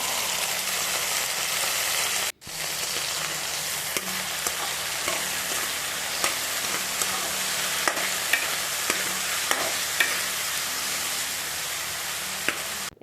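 Pork with taro leaves, red chili powder and spices sizzles steadily in a pan while being stirred, with scattered scraping ticks from the utensil and a brief break near the start.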